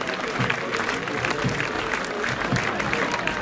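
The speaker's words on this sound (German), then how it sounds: "Ein herzlicher Applaus euch, liebe Kinder und den Begleiterinnen." An outdoor crowd applauds kindergarten children passing in the parade at a 2019 district music festival in Hohentengen. The clapping is a dense, even wash held at a moderate level from start to finish.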